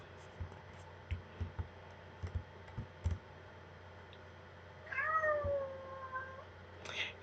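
A pet cat gives a single drawn-out meow about five seconds in, with soft scattered clicks and taps beforehand and a short chirp near the end, all fairly quiet and close.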